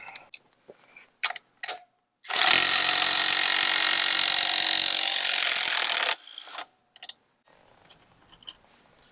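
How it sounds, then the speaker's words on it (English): A power tool, likely an impact wrench, loosens the rear axle nut on a BMW F800GSA motorcycle in one loud, sustained burst of about four seconds, framed by a few short clicks and clanks of tool handling before and after. "What we'll do next is we're going to loosen the rear axle and then kick it forward."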